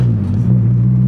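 Honda S2000 engine droning steadily while driving, a loud continuous low rumble heard from inside the car, with no talk.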